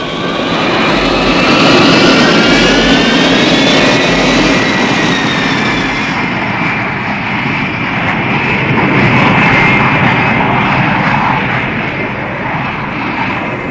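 Aircraft engine run up to full throttle during a landing emergency with the undercarriage up, a loud sustained roar with rising whining tones that swells and holds steady throughout.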